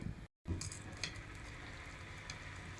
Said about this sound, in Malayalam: സവോളയൊക്കെ നന്നായിട്ട് ഫ്രൈ ആയി വന്നിട്ടുണ്ട്